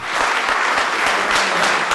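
Steady, dense applause from an audience at a journalism award ceremony in Ankara, honoring a news agency correspondent, filling the hall evenly and loudly without pause and with no voices above it.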